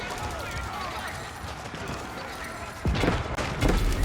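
Many horse hooves clip-clop in a dense, rapid patter in the video game Age of Empires, with a louder burst of thuds near the end, while someone talks over them.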